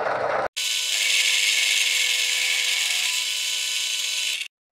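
Angle grinder cutting through a metal shaft held in a lathe-style setup, a loud, steady high-pitched grinding whine lasting about four seconds, close by, with brief quiet before and after.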